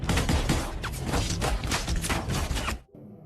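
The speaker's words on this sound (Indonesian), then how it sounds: "terjadilah aksi tembak-tembakan dengan gangster Rusia yang sedang berjaga di sana" Rapid gunfire from a film shootout with Russian gangsters, a dense, loud barrage of overlapping shots lasting nearly three seconds before cutting off abruptly into quieter background sound.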